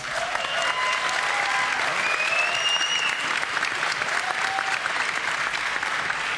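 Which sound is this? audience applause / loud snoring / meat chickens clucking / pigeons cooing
audience applause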